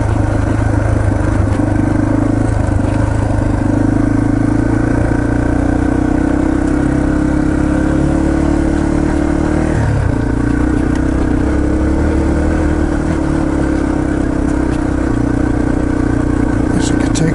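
Yamaha TTR 230 dirt bike engine holding a steady mid-pitched drone while riding on a trail, continuous and close throughout with slight pitch shifts around the middle, and a voice talking over it.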